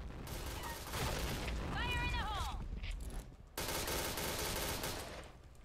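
Rapid machine gun bursts in a video game fill the clip as a dense, loud fusillade, briefly broken near the middle, with excited voices talking over the gunfire.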